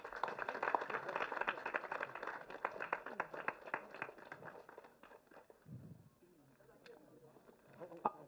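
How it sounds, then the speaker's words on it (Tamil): Audience clapping at a Tamil film trailer and music launch event for ROBBER. Dense, steady applause fills the first five seconds, then thins to scattered claps and a few quiet voices. "கைத்தட்டலாமே."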